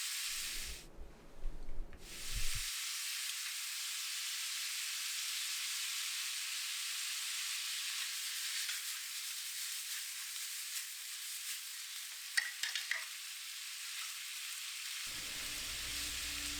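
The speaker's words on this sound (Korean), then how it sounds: "양파, 당근, 양배추 등 준비된 모든 야채를 넣고 볶아요." Squid stir-fried with onion, carrot and cabbage in a hot pan: a brief rough clatter as the vegetables go in, then a steady, fairly loud sizzle that continues on its own without voices.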